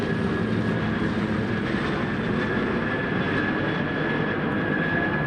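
A helicopter passes over Washington, DC, its engine a steady loud drone with a sustained whine, holding constant for several seconds without any speech.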